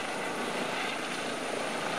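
Simulated Eurocopter EC135 helicopter in a flight game, its engine and rotor roaring as a loud, steady, unbroken drone with no talk.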